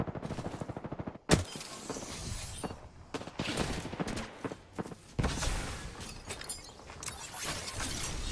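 Rapid automatic gunfire from a firefight in the battle royale game Apex Legends, loud and close, with dense bursts of shots and a sharp crack near the start, continuing almost without pause.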